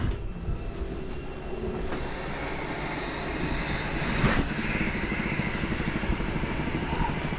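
A 2026 Flagstaff Microlite 25MBR RV slide-out motor retracts with a steady mechanical drone and rattling, clattering texture throughout, swelling slightly midway, with no voices.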